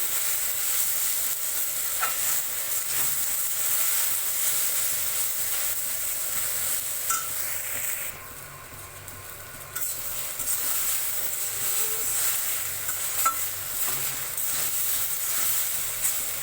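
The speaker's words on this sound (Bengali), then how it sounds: "এইভাবে আপনারা ভিন্ডিটা ভাজবেন" Okra sizzles steadily in a hot pan, with occasional stirring scrapes and a brief dip in the frying hiss partway through.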